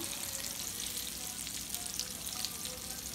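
Breaded shrimp frying in hot oil while being turned, giving a steady, dense crackling sizzle that runs unbroken and close throughout.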